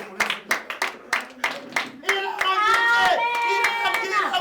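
Congregation clapping hands in rhythmic, evenly spaced claps at first, then singing and voices swell over the clapping as it continues, fairly close.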